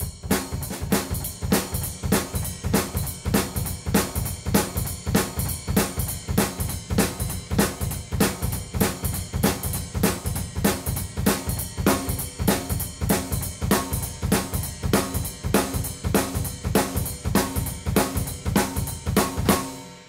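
A drum kit plays a steady, even rock beat at moderate tempo with no ghost notes, kick and snare alternating with cymbal hits, loud and close, with no other sounds.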